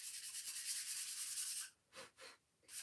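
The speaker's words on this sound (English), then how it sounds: "I'm going to sand this just lightly." Light sanding of a wooden Big B piece from a honey bee sign kit: a steady, close scratchy rubbing for over a second, then three short separate strokes.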